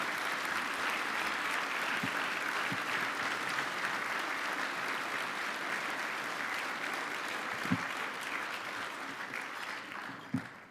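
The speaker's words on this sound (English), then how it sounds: "a round of applause for the members of the National Softball Hall of Fame" Audience applause at the National Softball Hall of Fame induction ceremony, a steady, sustained clapping from a large crowd lasting throughout, with a few sharper individual claps standing out near the end.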